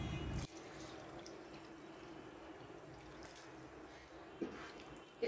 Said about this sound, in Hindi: अच्छी तरह से टमाटर की भुनाई करने के बाद अब हम यहाँ पर पानी ऐड करेंगे।